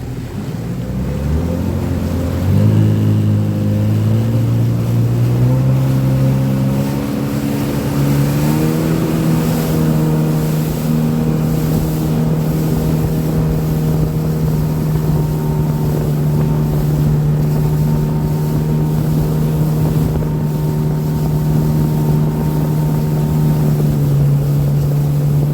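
Motorboat engine revs up to full throttle, its drone climbing in pitch and then holding a loud, steady roar with wind buffeting the microphone.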